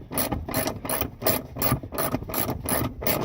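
A hand ratchet undoes a very long seat bolt in a vehicle with a leaking hard top, giving steady, rapid clicking strokes up close and a rhythmic back-and-forth ratcheting with no talk.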